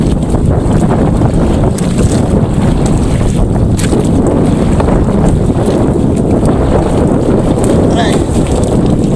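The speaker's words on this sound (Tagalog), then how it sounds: "Lakas ng hangin." Strong wind roars across a fishing boat at sea, a loud, unbroken rush buffeting the microphone, with a person briefly speaking beneath it.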